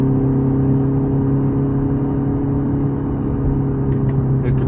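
A BMW M235i xDrive Gran Coupe engine runs at high revs above 4000 RPM under manual paddle-shift driving, a loud, steady droning whir heard from inside the cabin, with faint chirps near the end.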